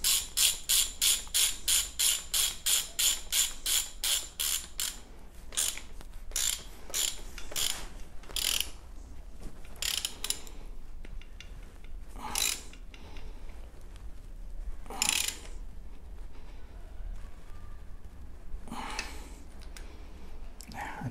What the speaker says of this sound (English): But first I wish to tighten the left hand side bottom bracket.